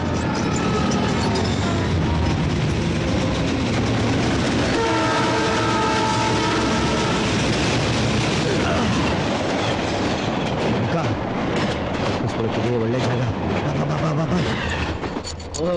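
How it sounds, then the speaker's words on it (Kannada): A train rumbles past with steady, loud rolling and rattling wagons. Its horn sounds as a long sustained tonal blast partway through, and faint voices come in under the noise. "ಟ್ರೈನ್ ಸೌಂಡ್ ಕೇಳ್ತಾ ಇದೆ ಅಲ್ವಾ?"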